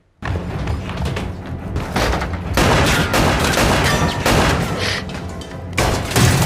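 Film gunfire from a 2022 murder mystery erupts in a loud, dense volley of shots and heavy thuds that runs almost continuously after a brief silent start.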